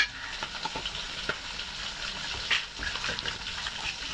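Koi fish bhuna fries with ginger, garlic, chili, turmeric and salt, giving off a steady, moderate sizzle with occasional bubbling pops and a scrape of stirring.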